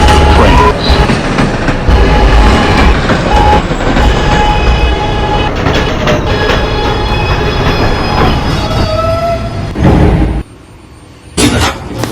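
A New York MTA A train running late at night on the C line rumbles loudly and continuously with wheel squeals and rattling, then drops away abruptly near the end before a brief burst returns.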